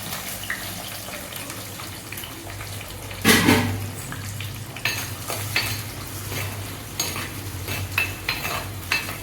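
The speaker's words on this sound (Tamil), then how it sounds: "பச்சை மிளகாவும் நறுக்கி வச்சுருந்த வெங்காயத்தையும் அதில் மிக்ஸ் பண்ணுறேன்." Chopped onions and green chillies sizzle in a hot pan while a spoon stirs and scrapes, with a loud clatter of ingredients dropped in and steady frying throughout.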